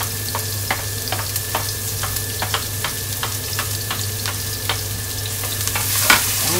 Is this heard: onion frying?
yes